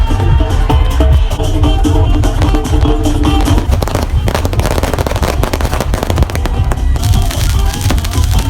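Firecrackers and fireworks going off at a beach New Year's Eve celebration, a dense, continuous barrage of loud crackling bursts with no break in the noise.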